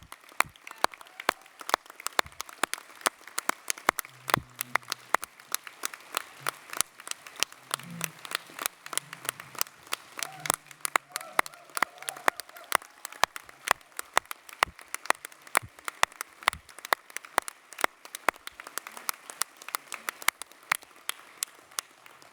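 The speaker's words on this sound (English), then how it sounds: "give you a big round of applause" An audience applauding during a presidential address at a national Native American congress, a long even spread of sparse, crisp claps from a crowd, with a voice speaking faintly beneath.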